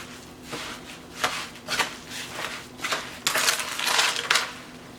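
A spoon stirs a turkey meat loaf mixture in a bowl, giving a series of soft scraping, clinking strokes in an uneven rhythm that grow louder and more frequent toward the end.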